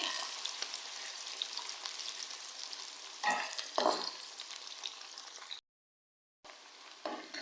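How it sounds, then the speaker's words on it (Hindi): Onions frying in oil for a chicken pulao give a soft, even sizzle with a couple of louder stir bursts, then a brief cut to silence before the frying resumes. "प्याज मैंने लिए थे 3 अदद। इन्हें हम फ्राई करेंगे।"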